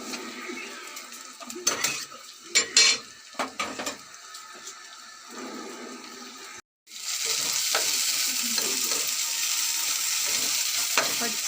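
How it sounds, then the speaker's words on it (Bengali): Spice masala is stirred and fried in a pan. Scattered scrapes and clinks of a utensil against the pan come first, then a loud, steady sizzle of frying runs unbroken to the end. "মশলাটা একটু ভালো করে কষিয়ে নিচ্ছি।"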